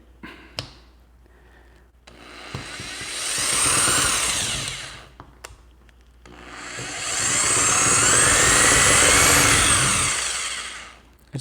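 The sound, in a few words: power drill drilling into steel lock body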